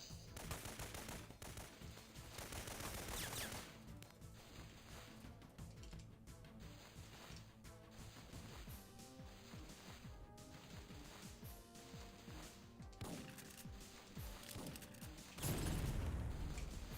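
Gunfire from a PS2 video game fills the scene, the player taken under fire from outside up a ramp with tanks exploding nearby, as dense, continuous rattling shots and crashes against game music, growing heavier near the end.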